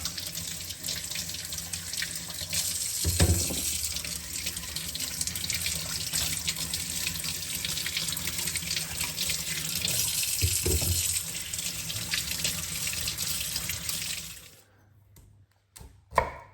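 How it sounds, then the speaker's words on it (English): Cold tap water runs steadily into a sink as fresh walnuts are rinsed clean for homemade nocino, a continuous broadband splashing with a couple of brief louder surges, then it stops abruptly near the end, leaving a few faint knocks. "rinse them in cold water, and wash off any dirt or anything that was on the skin"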